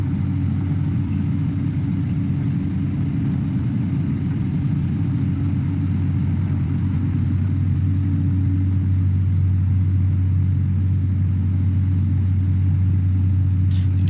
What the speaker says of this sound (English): The fan is blowing air.